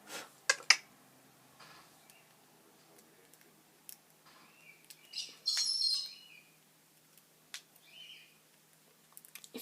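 A budgie makes a few faint, scattered chirps and short squawks in a quiet room, with soft ticks and handling noises between the calls.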